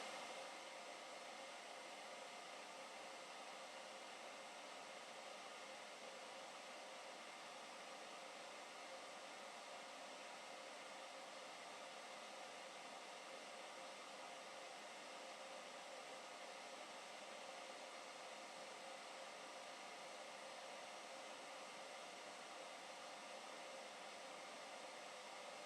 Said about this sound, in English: put the blow dryer fairly close to the end of the tubing